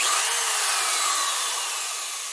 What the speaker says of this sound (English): when I start the drill, it will be a little bit loud